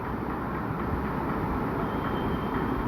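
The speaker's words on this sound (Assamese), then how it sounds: "ষ্টাৰ্ট হ'ল ট্ৰেইনখন, গৈ আছোঁ আমি" A children's amusement park train ride running in a city park, a steady close rumble of wheels and rolling motion holding at an even level throughout with no voices.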